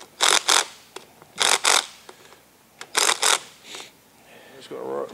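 Screws being tightened down on an engine flywheel, several short bursts of close metallic ratcheting and turning with pauses between them and a little handling noise.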